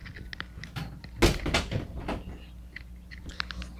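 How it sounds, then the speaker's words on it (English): A bedroom door closing quietly, one soft thud followed by a few light knocks and creaks, close and fairly faint against a low background hum. "Let me close my door, not make too much noise for my mom."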